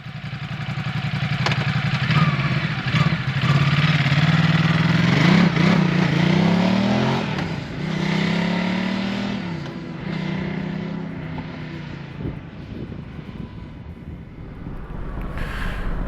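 A Ducati Multistrada motorcycle rides along a road on a hot summer morning, its engine droning steadily with rising and falling revs under heavy wind buffeting for the whole stretch, with no talking.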